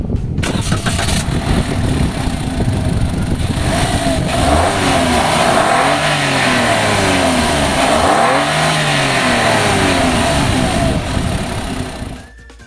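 A 1200cc Toyota Agya, a 2023 GR Sport hatchback, cranks and fires up, then its small engine revs up and down in several rising and falling sweeps before settling and cutting off, loud and close.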